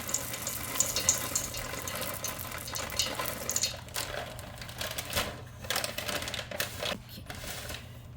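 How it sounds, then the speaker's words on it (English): Hands being rinsed under a running kitchen tap while making chocolate chip cookie dough, a steady close splash of water with a low hum beneath, fading in and out over several seconds. "I just wash my hands"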